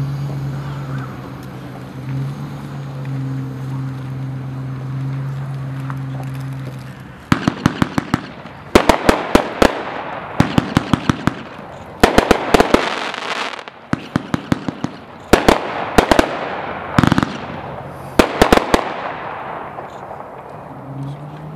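A 24-shot American Legend consumer fireworks cake fires at a 1.4g demo night, a rapid series of sharp, loud outdoor bangs in irregular bursts after a quieter lead-in with a low engine-like hum.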